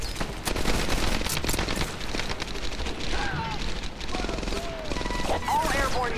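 An MG42 machine gun fires in Medal of Honor: Airborne, a loud sustained burst of rapid gunfire mixed with crashes and battle noise, with voices shouting over it.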